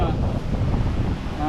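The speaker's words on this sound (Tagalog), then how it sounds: "Pero medyo mahangin po dito" Wind gusts roar against the microphone at an outdoor picnic spot, a steady low rumble filling the short stretch.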